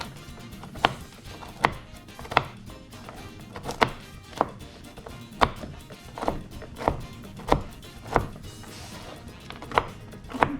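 A knife chops nuts such as walnuts, peanuts or cashews on a board for fruit cake, a steady series of close, crisp knocks at an even rhythm, about one per second, with no talking.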